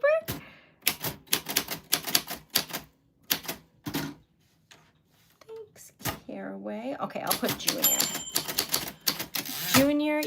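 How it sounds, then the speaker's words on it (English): Typewriter keys clack in quick, uneven bursts of sharp close strikes, pausing between runs, while people talk over the typing. "So we are doing some typewriter ASMR with Erica."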